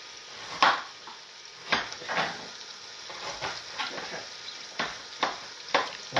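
Knife chopping ginger on a board in a home kitchen while making curry, irregular close thuds and taps in small bursts.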